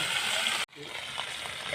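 Bhola fish fry in hot oil with a constant bright sizzle and hiss that cuts off briefly and then resumes, with faint voices in the background.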